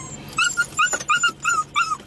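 Dogs on a road trip whimper and yip in a quick series of high, close, urgent whines with short pauses between them.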